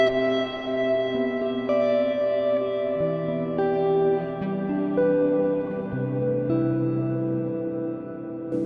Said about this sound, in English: It's sort of like a particle reverb.